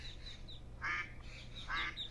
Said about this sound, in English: Cute little duckling.